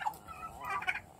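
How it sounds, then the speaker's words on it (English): Turkeys gobble nearby outdoors in one brief, loud, warbling burst that rises and trails off quickly. "look at the turkeys. They want to go for a ride."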